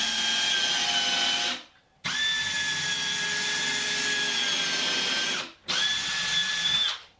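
A power drill whines as it drives screws into a wooden mobile workstation, three close, loud runs of a few seconds each with the motor pitch sagging under load, separated by short pauses.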